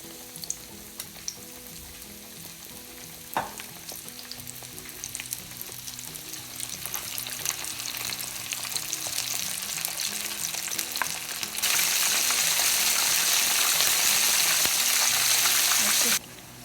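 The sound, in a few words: pork belly frying in oil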